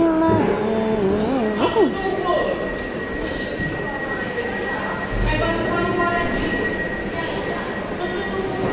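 A train at a station rumbles and hums steadily, with a long tonal whine and a few squeals, while a voice talks and sings over it at first.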